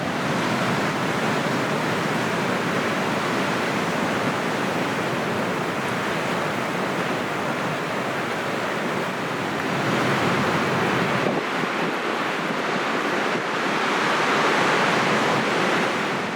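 Steady, broad roar of ocean surf breaking on the beach at Guerilla Bay, continuous and fairly loud with slight swells in intensity and some wind rumble, no voices.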